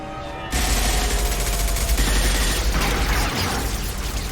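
Sustained gunfire from a Mass Effect 2 firefight, loud and dense, breaking in after a half-second of quiet and continuing as a steady rattling barrage of shots and impacts with no talk.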